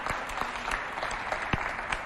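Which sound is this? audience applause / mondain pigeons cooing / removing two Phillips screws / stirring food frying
audience applause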